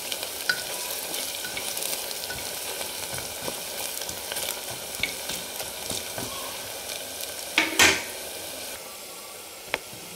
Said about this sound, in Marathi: आणखी 1 मिनिट तळून घेणार आहे